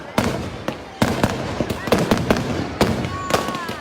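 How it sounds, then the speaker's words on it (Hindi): Dense bursts of firecrackers popping and cracking at a Ravana effigy burning during a Dussehra celebration in Una, sharp loud bangs in quick irregular succession over crowd noise and voices. "पटाखों से रावण का जलन"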